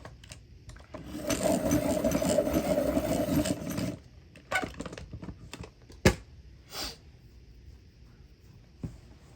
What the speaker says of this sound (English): I'm gonna need to sharpen